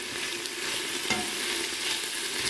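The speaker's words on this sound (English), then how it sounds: "Let that continue to saute up for a few minutes, making sure to continuously stir." Vegetables for a winter soup sauté in a pot, a steady close sizzle running throughout while a spoon stirs them, with one sharper scrape near the middle.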